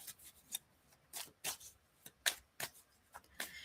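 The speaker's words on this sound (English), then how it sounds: "I like to shuffle and think about the card or think about the question" Tarot cards shuffled by hand in a run of short, crisp riffling bursts, close and quiet, with no talking.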